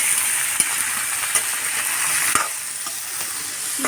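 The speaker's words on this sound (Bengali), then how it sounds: "এরপর এটাকে নেড়ে চেড়ে দেবো।" Bitter gourd and potato with chopped onion, salt and turmeric sizzle steadily in a pan while a utensil stirs them, with a few sharp scraping clinks against the pan over continuous frying hiss.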